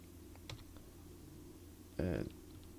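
A few light keyboard clicks on a computer keyboard, most likely numpad and letter keys, heard during beginner modelling work in Blender: a faint tap near the start, then a louder, fuller burst of clicks about two-thirds of the way through, in a quiet room.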